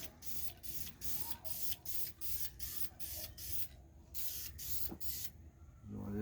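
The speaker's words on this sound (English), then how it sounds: "Just laying a coat of primer on it." Spray primer is laid onto a Datsun dashboard in short hissing bursts with brief pauses between them, fairly faint and close, with a small clatter near the end.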